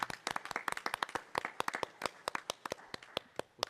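A single person clapping for a colleague's award at a school committee meeting, brisk rapid claps, close and crisp, with no other voices.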